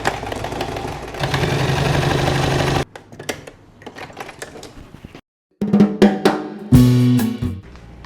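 A sewing machine stitching the side seams of a shirt, close bursts of motor whir with quick needle chatter, separated by pauses and fabric handling, one brief silence midway.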